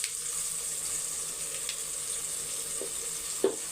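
Onion, tomato and green chillies sauté in a pan with a steady, even sizzle, broken by a couple of faint clicks and a sharper utensil knock near the end.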